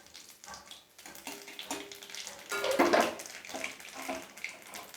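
Nigella seeds dropped into hot mustard oil in a pan while cooking a Bengali fesa fish curry, giving a crackling, hissing sizzle that swells midway and then settles into a steady fry.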